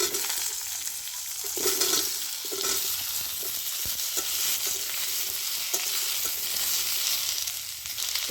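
Potatoes fry in hot oil with ginger in a home kitchen, giving a steady, dense sizzle throughout, broken by scraping and stirring sounds of a utensil in the pan.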